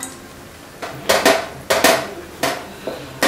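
A metal spoon stirs roasted cashews into thick Tirunelveli halwa in a pan, giving a series of irregular scraping clanks against the pan, close and fairly loud, with short pauses between strokes.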